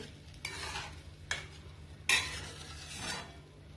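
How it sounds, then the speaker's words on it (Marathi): A besan pithla mixture being sautéed and stirred in a pan over low heat: a few distinct scraping strokes of a spoon against the pan over a faint low sizzle, close and fairly quiet. "आता हे मिश्रण व्यवस्थित असे परतून घ्यायचे आहे."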